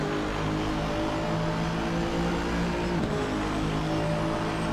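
Racing car engines of two McLarens and an AMR Vantage GT3 drone together in a sim race at Paul Ricard, a steady layered engine hum with sustained tones, no gear-shift spikes and no voices.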